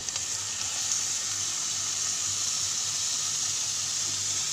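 Tofu frying in a pan, a steady, even hiss of oil sizzling without pause, close and moderately loud, with no talking.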